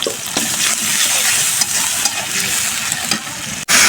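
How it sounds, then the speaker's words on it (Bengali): Cumin seeds, green chili, chopped onion and garlic paste sizzle in hot oil in a wok, a loud continuous frying hiss with faint stirring scrapes, ending in a brief sharp clatter. "কড়াইতে তেল দিয়ে দিছি, কয়েকটা আস্তা জিরা ফোড়ন দিয়ে দিলাম, কাঁচামরিচ আর হচ্ছে পেঁয়াজ কুচি দিয়ে দিলাম"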